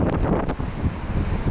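Strong wind buffets the microphone outdoors on a cold windy day in Alanya, a continuous heavy low rumble with gusty fluctuations and no talk.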